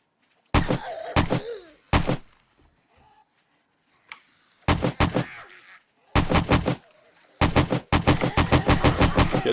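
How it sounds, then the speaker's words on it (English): Bursts of hip-fired gunfire in the 7 Days to Die video game: sharp loud shots in short clusters and rapid strings, separated by quiet gaps, with no voices. "Getting too close, I'm just gonna hip fire."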